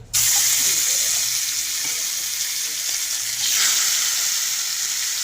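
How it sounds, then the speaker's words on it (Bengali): Fish heads frying in hot mustard oil give a loud, continuous hiss and crackle close by, with a brief pan clatter near the start and a stir partway through. "তবে মাছটা আস্তে আস্তে ভেজে নিচ্ছি আমি"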